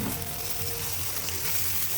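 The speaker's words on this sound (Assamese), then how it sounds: "লৰাই দিয়াৰ পাছত এতিয়া এই মাংসখিনি দি দিম।" Chicken pieces sizzle in hot oil in a pan with ground black pepper and coriander powder, a steady, close frying hiss that goes on without pause.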